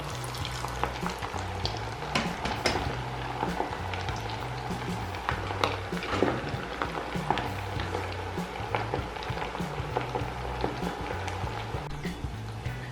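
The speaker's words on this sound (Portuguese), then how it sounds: "Na minha panela, eu consigo fritar de 3 em 3 ou até 4 unidades por vez" Kibe balls deep-frying three or four at a time in oil that fully covers them in a pan, giving a steady close sizzle with dense crackles and pops throughout.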